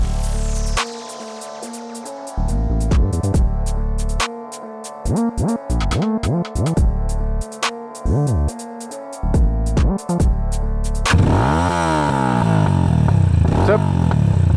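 A Geon Scrambler 250 motorcycle engine revs and chops repeatedly in short bursts, then settles into a rushing, wind-buffeted drone as it rides away.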